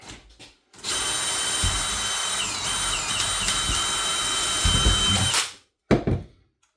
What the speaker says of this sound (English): just want to try to drill down through these as straight as possible.